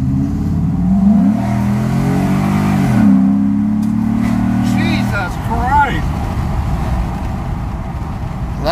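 Ford F-150 with a Spectre cold air intake accelerating hard, its engine rising in pitch through a loud rev, then shifting and fading to road noise, with a voice talking over part of it.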